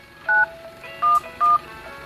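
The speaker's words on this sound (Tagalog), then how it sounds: "Ang idadial nyo ay 911." Three touch-tone keypad beeps from an Infinix Android phone as 911 is dialed, each a short steady electronic tone, close and clear over a quiet background with no talking.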